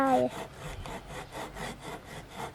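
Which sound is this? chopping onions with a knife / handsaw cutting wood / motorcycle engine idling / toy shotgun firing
handsaw cutting wood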